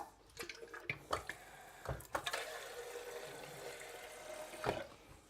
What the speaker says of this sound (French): On va rajouter de l'eau.